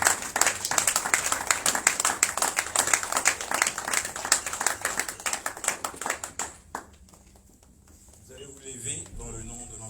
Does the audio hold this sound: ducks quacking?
no